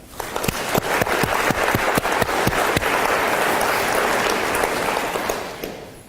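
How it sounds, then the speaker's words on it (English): An audience of faculty and staff gives a loud round of applause, starting with distinct sharp claps that merge into a dense, steady roar before fading at the end. "Again, a round of applause."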